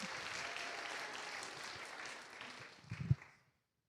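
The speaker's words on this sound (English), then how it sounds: "Let's give her a round of applause." An audience claps steadily for about three seconds, with a few louder claps near the end before the applause fades quickly into silence.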